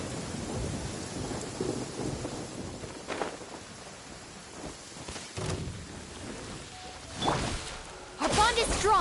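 A thunderstorm effect from the video game Genshin Impact, with steady rain hiss and several rolling thunder rumbles and cracks, moderately loud, ending in a sharper whooshing burst.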